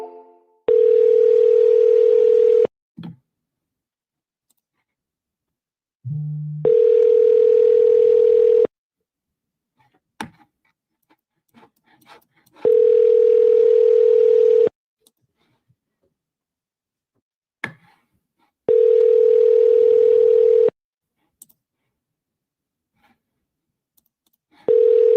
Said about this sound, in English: Let's call back again. See if they pick up the phone.